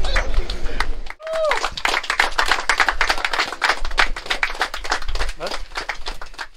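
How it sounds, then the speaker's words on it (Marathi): Audience clapping at a prize ceremony for a fishing competition in Navi Mumbai, held while a winner is honoured with a trophy and a rod. The applause is dense and steady and runs all the way through, with a brief dip near the start and voices mixed in. "टाळ्या वाजत राहिला पाहिजेत."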